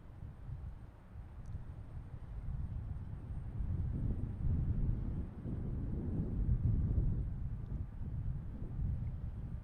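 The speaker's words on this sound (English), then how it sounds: "It is windy out here. Chilly and windy." Chilly wind gusting steadily across an airport apron at Boston Logan, a continuous low rumbling roar that swells and eases slightly throughout, with no other distinct sounds.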